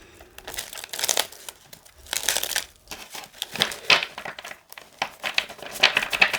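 Repeated bursts of papery riffling and crinkling as tarot cards are shuffled by hand, coming in uneven waves close to the listener with no talking.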